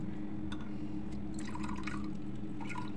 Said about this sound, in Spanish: Estamos sacando la segunda leche del coco.